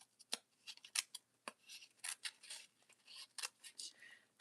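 Scissors cut a piece out of junk journal material in a series of faint, close, irregular snips and crisp paper rustles.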